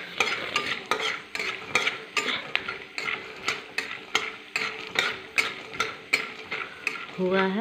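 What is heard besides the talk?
peanuts frying in oil for chivda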